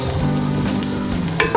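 Chicken sizzles and fries steadily in a pan with barbecue marinade, with a loud constant crackle and brief stirring clatter near the end.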